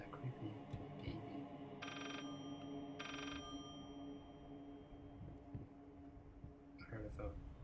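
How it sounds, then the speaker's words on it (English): An old-style phone bell in the horror game Layers of Fear rings in two short bursts, fairly faint against a dark, droning ambience with low thuds. "I heard a phone."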